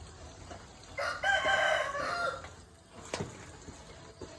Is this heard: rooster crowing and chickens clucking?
yes